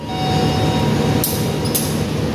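The Jaka Tingkir passenger train at a station gives a continuous low, close rumble, broken midway by a couple of brief, sharp high-pitched squeals or hisses.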